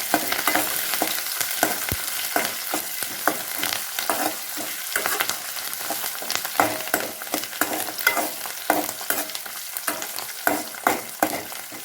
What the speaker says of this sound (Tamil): மல்லித்தலை கொஞ்சம் நல்லா வணக்கிக்கலாம்